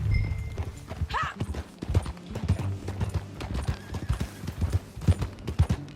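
Horse hooves clip-clop in steady, uneven beats on a trail in the Red Dead Redemption 2 video game, close and clear, with a brief whinny early on.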